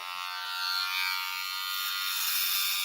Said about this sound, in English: Well, it'll be better with a shaver, right?